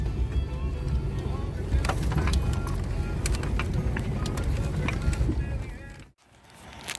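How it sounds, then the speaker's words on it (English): A small Jeep in two-wheel drive runs on pavement with a low, rumbling engine and scattered rattles and clicks, heard close and steady before the sound abruptly drops away briefly near the end. "See what this little Jeep will do."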